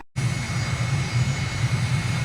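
Aircraft engine in Microsoft Flight Simulator, cutting in after a brief silence as a loud, steady, close droning roar with a slight pulsing throb that holds level to the end.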